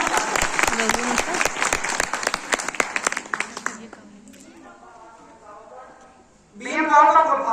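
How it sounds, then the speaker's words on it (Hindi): Audience clapping for BM Rao at a lecture on the constitution, a close, brisk burst of many hands that thins out and fades, followed by a few voices talking. "तो बीएम राव जी के लिए एक बार आप लोग जोरदार तालियां बजाएंगे।"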